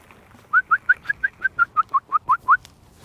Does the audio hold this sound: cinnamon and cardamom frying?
no